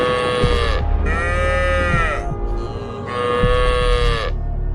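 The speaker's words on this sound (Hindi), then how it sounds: "एक सफेद बछड़ा लगातार रंभा रहा है" A white cartoon calf moos over and over, two long wavering calls with a short break between them, close and prominent with no talking.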